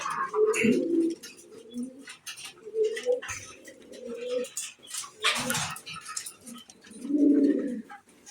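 Pigeons coo in low, throaty rolling phrases, repeated several times at close range with short pauses between, while someone talks intermittently in the background.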